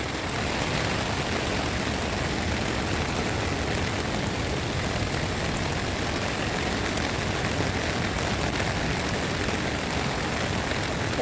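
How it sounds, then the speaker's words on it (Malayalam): Heavy rain pours down at a seaside beach park, a dense, even hiss of falling water close to the listener, continuous and unbroken with no voices. "നല്ല മഴയാണ്."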